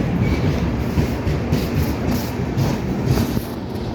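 A passenger train rolls past close by, its last coach going by with a loud, continuous rumble and rhythmic wheel clatter, with no talking.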